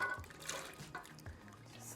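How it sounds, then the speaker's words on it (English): Potatoes tumble into a pot already holding water, a short burst of splashing and dribbling liquid up close, then a few lighter drips as they settle. "I'm going to pour the potatoes."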